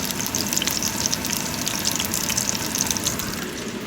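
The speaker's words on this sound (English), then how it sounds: "what you want to hear when it's sizzling is a gentle sizzle like this" Steady, gentle sizzling of sausages frying in a pan, a constant close crackle with small pops and no voices.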